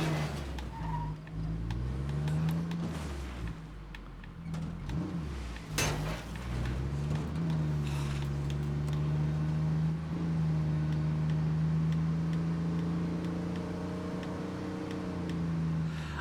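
A car engine in the State of Decay 2 video game revs and shifts pitch, rising and falling through gears before settling into a sustained high drone, with a sharp clunk partway through.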